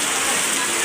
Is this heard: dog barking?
no